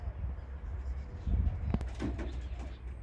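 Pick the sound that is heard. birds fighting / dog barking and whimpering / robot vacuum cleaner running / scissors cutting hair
birds fighting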